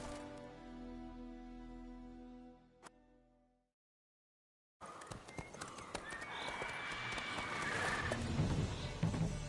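Roach the horse gallops in The Witcher 3: Wild Hunt, soft tonal game music fading to silence before a busy stretch of hoof clatter and movement noise that builds in loudness.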